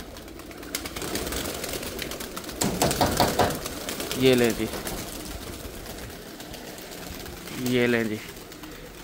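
Pigeons flutter and coo nearby, with flapping wing bursts and two clear rolling coos a few seconds apart, while someone speaks briefly over the birds.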